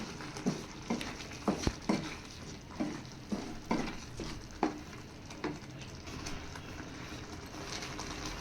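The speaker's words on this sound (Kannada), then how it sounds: "ಮಸಾಲೆ ಜೊತೆ ಎಲ್ಲನೂ ಚೆನ್ನಾಗಿ ಮಿಕ್ಸ್ ಮಾಡ್ಕೊತಾ ಇದ್ದೀನಿ" Grated paneer and masala are stirred in a pan, a spoon scraping and knocking in an irregular rhythm of soft thuds over a low, faint sizzle, close by, with no one speaking.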